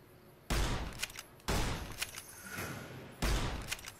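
Gunfire in the game Fallout New Vegas, three heavy booming shots spaced about a second or more apart, each with a long rumbling decay, loud against quiet game ambience.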